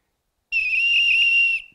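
A vessel-shaped clay water whistle imitating birdsong gives a single sustained, warbling tone with a bubbling trill, held steadily for about a second before stopping, loud and close.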